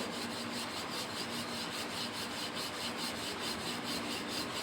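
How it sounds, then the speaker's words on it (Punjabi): A rolling pin rolls out flour-dusted lachha paratha dough made with leftover urad dal, giving steady, close, rhythmic rubbing strokes back and forth without pause, with no talking. "ਸਭ ਤੋਂ ਪਹਿਲੇ ਅਸੀਂ ਇਹਨੂੰ ਪੂਰਾ ਵੇਲਾਂਗੇ ਅੱਛੀ ਤਰ੍ਹਾਂ ਧੂੜਾ ਲਗਾ ਲੈਣਾ"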